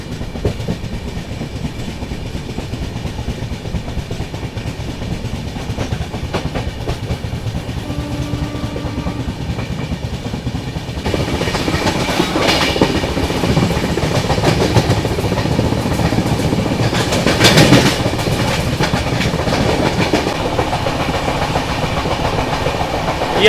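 The Mandovi Express rolls along the doubled Konkan Railway line, a loud, continuous rumble with rhythmic clickety-clack from the wheels, heard from on board; the noise swells noticeably midway as another train passes by.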